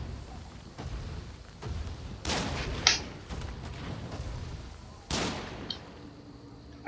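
Gunfire in the samurai action video game Nioh 2 comes as a few scattered, sharp shots and bursts over a low background hum, with faint movement between them.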